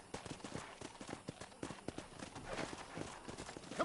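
Horse hooves clip-clop at a steady walking rhythm in Red Dead Redemption, close and fairly loud, with faint game ambience and scattered voice-like sounds underneath.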